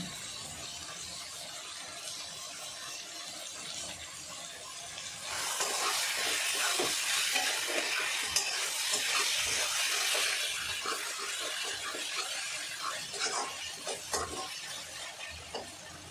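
Tomatoes cook down with a little salt in a pan for Bengali chicken kasa, giving a soft, steady sizzle and hiss that swells louder midway, with occasional stirring scrapes.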